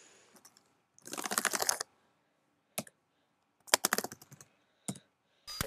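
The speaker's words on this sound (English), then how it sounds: "I'll just unlock it and type the keychain password." Keys on a computer keyboard clatter in a few separate bursts of rapid typing as a keychain password is entered, with short pauses between the bursts and quieter single clicks scattered around them, close and fairly soft.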